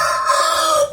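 A rooster crows in one loud, sustained, nasal call that holds steady and then cuts off abruptly.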